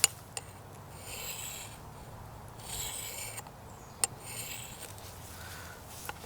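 An axe blade is drawn across the fine ceramic side of a Work Sharp Field Sharpener in soft, repeated rasping strokes, with a few sharp clicks between passes at close range.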